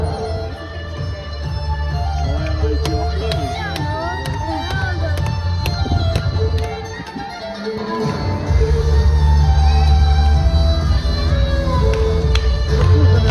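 An audience at a show in Egypt claps and cheers for performers in a steady, lively din with scattered sharp claps and shouts, a droning musical backing underneath that gets louder toward the end.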